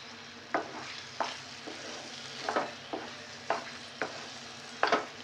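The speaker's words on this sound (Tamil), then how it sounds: "அதனால் இன்னும் கொஞ்சம் நெய்யை விட்டு கிண்டுவோம்." Rava kesari being stirred with ghee in a pan, a spoon scraping in sharp strokes roughly once a second over a steady low sizzle, close and fairly quiet.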